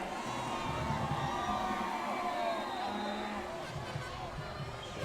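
A homecoming crowd at a Texas high school football game, University against Burnet, fills the stands with a steady murmur and scattered cheers, while an announcer talks over it.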